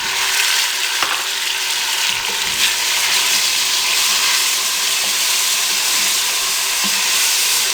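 Tomatoes frying with browned onions in a pan, a loud, dense and steady sizzle with a few faint stirring clicks, close up and uninterrupted by voices.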